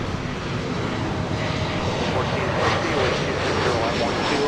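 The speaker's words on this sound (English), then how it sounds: "here's another Embraer. This one, I think this is Horizon. We have the biggest little jet coming in." Embraer regional jet operated by Horizon arriving at LAX, a steady broad engine roar that builds slightly as it approaches, with people talking in the background.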